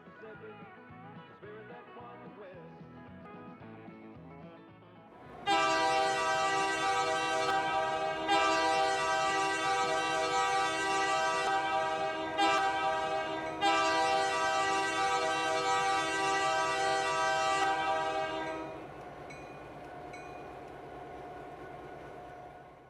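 A model Southern Pacific GP60 diesel locomotive rolls by on a layout, its rumble joined by a loud, sustained multi-tone horn sounding for about thirteen seconds with short breaks, then easing back to running noise alone.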